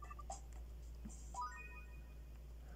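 A phone ringtone chimes in the Yo-kai Watch Blasters video game, a short burst of bright electronic tones over a low steady game hum, fairly faint and with no talking.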